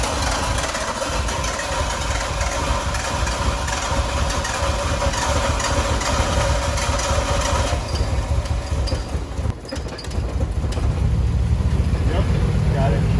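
Nissan GT-R engine running rough as if starved of fuel, a steady loud engine drone with a slight dip near the middle before it rises again, with no talk over it.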